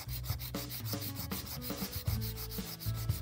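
A nail file rasps back and forth over a poly gel nail in quick, rhythmic strokes, close and steady throughout without any talking.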